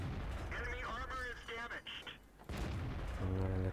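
A tank shell strikes in World of Tanks, a sudden sharp boom in the second half that is mostly masked by someone talking over the game's engine rumble and effects.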